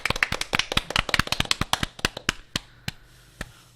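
Applause from an audience at a live Korean talk show taping, a dense burst of clapping that thins into a few scattered claps and then fades out.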